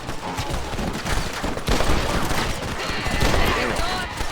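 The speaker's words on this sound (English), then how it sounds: "Why are you shooting at us?" Gunfire rattles through a shootout in the Red Dead Redemption video game, a dense, loud, continuous volley of shots with shouting voices mixed in throughout.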